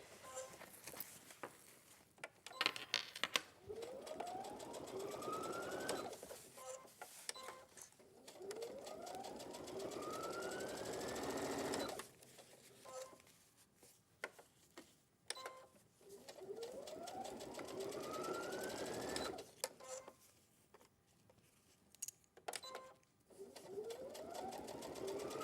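A sewing machine stitches fabric in repeated runs, each a rapid mechanical patter lasting a few seconds, separated by short pauses, close and moderately loud.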